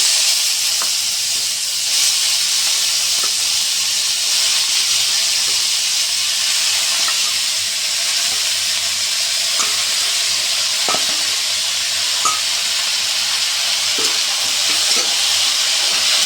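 Rohu fish pieces fry in mustard oil in a kadai, a steady broadband sizzle and hiss running throughout with occasional faint clicks of stirring, no voices.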